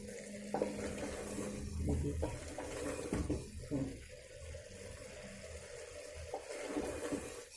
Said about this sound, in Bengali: বেশি একটু জল দিয়ে দিন